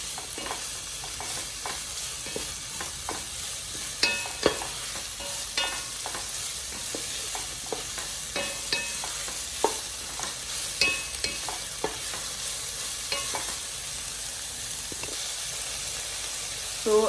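Crispy chilli beef stir-frying in a hot pan, with a steady bright sizzle and hiss broken by frequent sharp crackles and the scrape of stirring throughout, with no talking.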